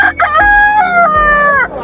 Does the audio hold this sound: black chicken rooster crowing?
yes